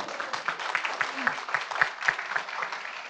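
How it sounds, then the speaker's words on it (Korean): An audience at a university anniversary forum claps in a moderate, even patter of applause, somewhat distant and softened, sustained for a few seconds without talk. "동의하시면 박수 쳐도 됩니다."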